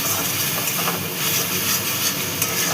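Rohu fish curry in mustard and poppy seed with kasuri methi stirred through in a pan, giving a constant steamy hiss and soft sizzle at moderate level with faint scraping and no speech.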